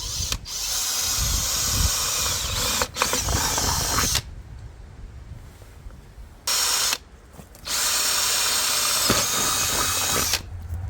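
Power drill boring through the metal of a greenhouse bed: loud, close whirring bursts with a grinding edge, stopping and restarting several times with short gaps between runs.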